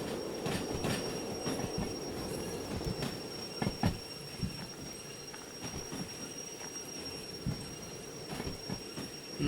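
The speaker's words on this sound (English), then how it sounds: "let's apply a little bit of train brake" An 856-ton DH4 harbor freight haul brakes in the Derail Valley train simulator, with rolling rail noise, repeated wheel clacks and thumps, and squealing steel wheels as it slows.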